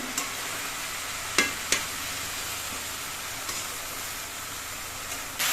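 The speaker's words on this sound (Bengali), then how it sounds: "এবার সব সবজিগুলো নেড়ে চেড়ে তেলের সঙ্গে মিশিয়ে দিতে হবে" Vegetables are stirred in hot oil in a small kadai while preparing a Bengali dish of river mourala fish with dudh kochu stems, a steady sizzle broken by two sharp scraping knocks early on and a few fainter clinks.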